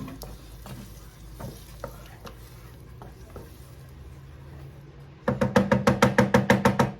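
Coconut milk jollof rice ingredients with pepper and onions being stirred and fried in a pot, a low steady sizzle with scattered scrapes, then a close run of about eight loud, rhythmic stirring strokes near the end.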